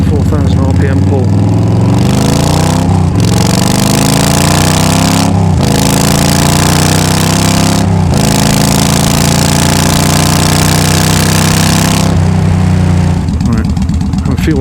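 A Yamaha V Star 1300 motorcycle with a Cobra exhaust makes loud, close pulls toward 4000 RPM. The engine note climbs repeatedly and briefly cuts out between each rise.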